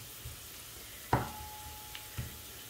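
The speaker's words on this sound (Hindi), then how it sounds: "गरम मसाले भी फ्राई हो गए हैं," Whole garam masala spices frying in a pan for masoor dal, a soft steady sizzle with a couple of stirring clinks and scrapes, heard alone without talk.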